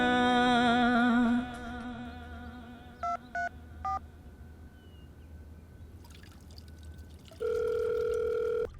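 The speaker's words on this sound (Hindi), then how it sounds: "ये बुढ़ऊ का फोन आ रहा है, क्या करूं?" Telephone going off in a household: a sustained tone, then three short electronic beeps, a pause, and a steady tone that starts again near the end, clear and close with no talking.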